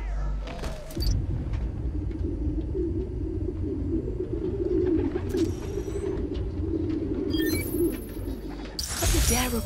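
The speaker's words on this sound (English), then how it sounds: "Place was swarming with pigeons." A flock of pigeons coos in a park in the Spider-Man: Miles Morales game, a dense low murmur of overlapping calls held for several seconds, with sharp clattering bursts at the start and the end.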